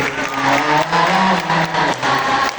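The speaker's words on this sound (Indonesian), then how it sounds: "mari kawan tepuk tangan tanda setuju" A group of scouts claps hands together in agreement, a dense burst of applause in several quick waves with brief dips between them, close and fairly loud, no speech over it.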